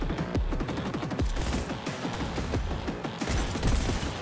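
Rapid gunfire in the Cyberpunk 2077 video game, a near, loud stream of shots in quick irregular bursts that runs steadily through the whole stretch with no talking over it.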